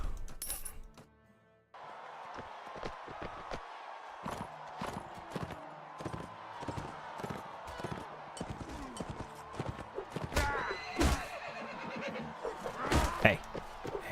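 Horse neighs and hooves clip-clop in the medieval combat game Mount & Blade: Warband, a whinny standing out among a dense run of sharp hoof and impact hits, with someone talking over the action.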